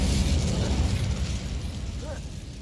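The Incendio fire spell cast in a video game, a loud rushing burst of flame that roars at full strength from the start and then slowly tapers off.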